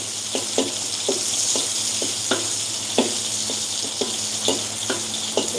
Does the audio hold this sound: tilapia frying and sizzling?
yes